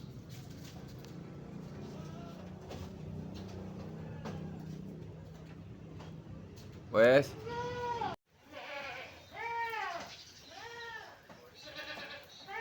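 Goats on a small farm bleat before feeding: a loud cry breaks through low background murmur and talk, then several repeated wavering bleats follow close by.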